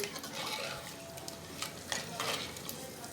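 Ghee being stirred into mutton in a pot, a continuous scraping and sizzling stir with irregular louder strokes, close and steady, without speech.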